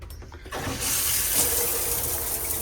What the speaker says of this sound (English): we're going to turn some water on